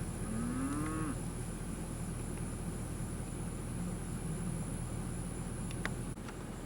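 Cattle steers at a cattle auction, a single brief moo near the start over a constant mechanical hum and faint background murmur, then mostly steady noise.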